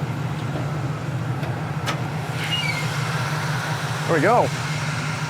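A 1969 Chevrolet Camaro engine idles with a low, steady rumble nearby, heard from under the hood, while someone speaks briefly over it.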